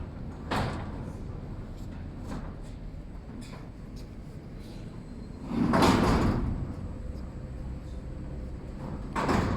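The sliding door on the cover of a UNICHCNC fiber laser cutting machine opens, with a short rumble and clack near the start and a louder, longer roll and thump about halfway through, close by.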